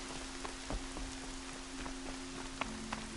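Rain falls steadily in the video game Horizon Zero Dawn, a quiet even hiss with scattered drop ticks over a faint constant hum.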